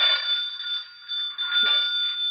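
A pull-cord doorbell shaped like a telephone bell rings again in bright, continuous bursts with brief dips, loud and near, in a 1949 radio drama.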